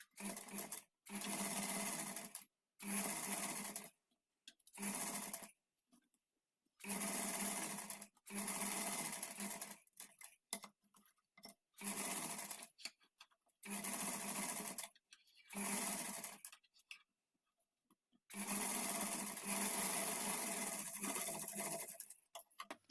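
A sewing machine stitches along the edge of a blouse back in repeated bursts of rapid whirring, each lasting one to two seconds, separated by short pauses, close and steady.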